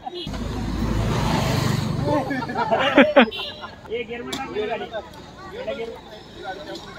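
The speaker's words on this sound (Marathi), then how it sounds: "गाडी पार्क करतानाचे स्ट्रगल बघा" A car being maneuvered into a parking spot at a chikoo orchard resort, its engine running steadily under a crowd's chatter and voices, with a few sharper knocks midway.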